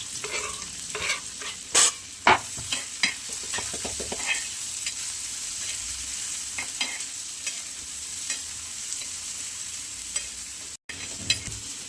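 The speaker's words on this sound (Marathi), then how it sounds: "लसूण कांदा जिरं मिरची ही परतली ना चांगली" Onion, garlic, cumin and green chilli sauté in a pan, a continuous close sizzle with a burst of sharp spatula scrapes early on, then steadier frying noise without talk.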